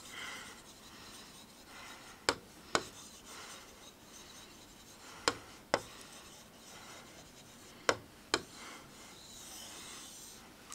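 Chalk or marker writing on a board during a vocabulary lecture, heard as short faint scratchy strokes arriving in pairs at spaced intervals against a quiet room.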